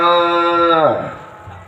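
An old cow gives a single drawn-out moo, loud and close, that slides down in pitch at the end.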